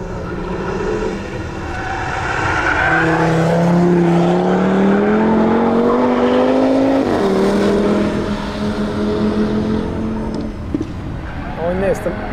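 A Maserati GranTurismo or Audi RS3 accelerates hard on a race track, its loud engine note climbing steadily in pitch, dropping at a gear change, then rising again under constant wind and road roar.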